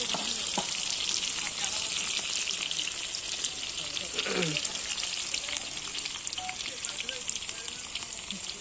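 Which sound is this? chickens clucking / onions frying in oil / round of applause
onions frying in oil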